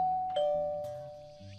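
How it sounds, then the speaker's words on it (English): A two-tone ding-dong doorbell chime rings once, clear and close, its tones fading out slowly with no voices. "I push the doorbell after parking my bike by the gate. I hear it ringing inside the house."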